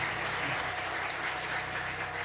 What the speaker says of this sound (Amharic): በደንብ ለጌታ አጨብጭቡ።